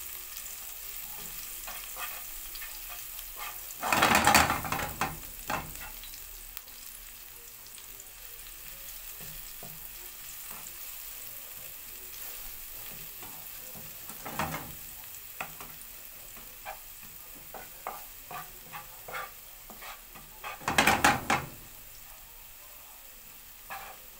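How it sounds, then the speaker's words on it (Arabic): Garlic frying in a pan gives a steady, close sizzle, with a few louder bursts of stirring and scraping breaking through at intervals. "وهحمر الثوم فيها."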